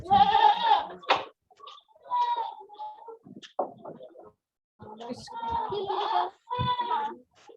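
A goat bleats repeatedly in wavering, nasal calls, fairly close, several cries spaced through the moment with short gaps between them.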